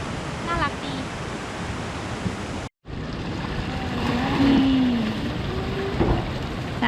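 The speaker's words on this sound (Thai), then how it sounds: "ตรงนู้นก็จะเป็นน้ำตกไหลลงมาแรงๆอีก" A waterfall flowing strongly at Cat Cat village in Sapa, a dense steady rush of water that fills the scene with broad noise, with someone talking over it and a brief dropout midway.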